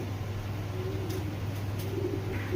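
Giribaz pigeons coo softly nearby, low repeated throaty calls over a steady background hum, with a few faint higher chirps and no speech.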